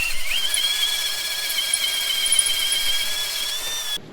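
A power drill with a steel bit squeals steadily at high pitch while boring, likely into a lorry brake part in a garage, a continuous whine lasting about four seconds before cutting off abruptly.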